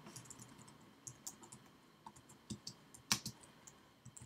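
Typing on a computer keyboard while writing Swift code: quiet, irregular key clicks scattered throughout, with one sharper, louder keystroke partway through, close by and with no talk.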